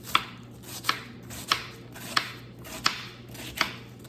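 A Vidalia sweet onion chopped with a knife on a board, giving six evenly spaced, crisp chops about every 0.7 seconds, close and clear, with no talk.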